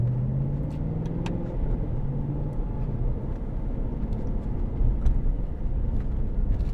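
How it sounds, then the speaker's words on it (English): An Aston Martin V8 Vantage Roadster engine hums low and steady from inside the cabin, a constant rumbling drone with slight swells, no voices. "You can still hear enough of that gorgeous engine note to put a smile on your face"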